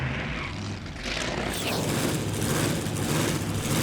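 Supercharged rear-engine dragster idling at an open-car drag racing event, a loud, dense rumbling roar that holds steady throughout.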